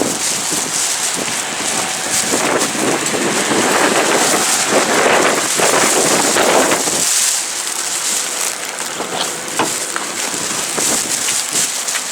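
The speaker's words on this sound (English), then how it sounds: "It's a windy one." Strong gusts batter the microphone outdoors, a constant loud rumbling buffet of wind with no speech.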